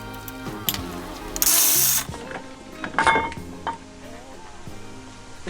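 A ratchet clicks as it backs out the bolts on an aluminum Brembo brake caliper at a race event. Close, busy mechanical clatter comes with a loud hissing burst midway.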